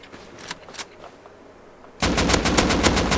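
Automatic gunfire in a shooter video game bursts in loud and close after a few quiet moments, a rapid, unbroken stream of shots that keeps going without talk.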